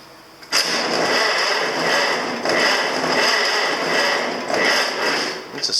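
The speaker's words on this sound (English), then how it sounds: "we'll turn the gas on because everybody loves to hear a International startup" An International inline-six engine with a 6-volt system and its choke left on cranks and fires, then runs loud and close with a rough, steady roar that surges and dips for several seconds.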